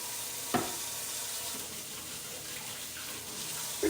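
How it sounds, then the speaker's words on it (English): Water runs steadily from a kitchen tap as hands are rinsed during home meatball canning, a continuous splashing hiss with a couple of brief clunks near the start and end. "let me wash my hands real quick"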